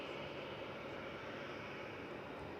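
Aurigny propeller aircraft at Manchester Airport, a steady, faint broadband engine roar holding constant throughout with no clear approach or fade, heard from a distance at a plane-spotting spot.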